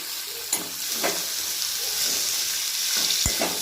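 Boiled cluster beans are stirred into an onion tempering in a pan, with a constant close sizzle of frying and a few scraping stirs and clinks of the utensil against the pan.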